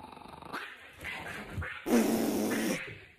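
A dog growls and snarls in a played-back clip, low rumbling growls building into a louder, harsher burst near the end, heard alone.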